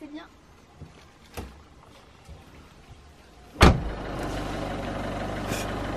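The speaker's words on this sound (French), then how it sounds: "Bérénice prend la voiture seule pour la première fois." A car starts up and pulls away with a novice driver at the wheel, a sudden loud burst followed by a steady engine hum after a quiet stretch of faint clicks and murmured voices.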